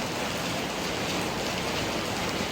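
Steady rain pours down during a trip to Kampot, a dense, even hiss of drops on surfaces continuing without a break and with no voices.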